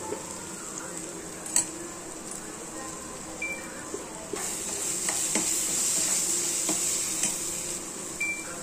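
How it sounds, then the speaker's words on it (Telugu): Ginger garlic paste and chili powder fry in oil while being stirred, giving a continuous sizzle with occasional spoon clinks and scrapes against the pan. The hiss swells louder partway through. "అల్లం వెల్లుల్లి పేస్ట్ కూడా ఫ్రై చేద్దాం."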